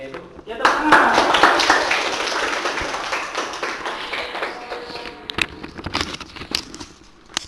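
A classroom group claps hands together, a burst of dense applause that swells quickly and then thins into scattered individual claps, with voices talking over it.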